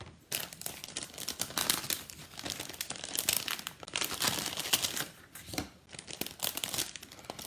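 Sheets of basic white paper are handled and shuffled during card making, with continuous crinkling and rustling that comes in bursts, close up, with no talking.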